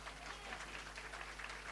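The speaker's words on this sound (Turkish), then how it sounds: "Söze gerek yok, alkışlar konuşuyor." A live audience claps at a Turkish comedy and entertainment show, a steady dense patter of applause filling the room without pause, fairly soft and even throughout.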